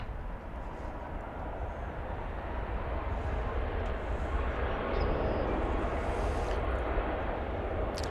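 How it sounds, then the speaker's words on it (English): An Airbus A321 arriving from Las Vegas touches down at DFW Airport with a broad, steady roar of jet engines and rushing air that holds loud and continuous throughout, with no voices. "flight 2275, touching down from Las Vegas in Airbus A321"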